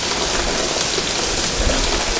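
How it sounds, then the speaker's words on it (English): Rain pours off a house roof with no gutter and hits the ground below, a dense, steady hiss of falling water close by that stays constant throughout. "you can see the rain hits the ground and trenches it where it falls off the roof"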